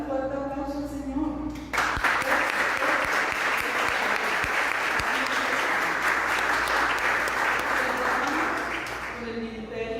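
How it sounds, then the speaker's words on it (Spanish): A church congregation bursts into loud, sustained applause after a short stretch of speech, the clapping filling the room for about eight seconds before fading out. "Vamos a darle un fuerte aplauso al Señor."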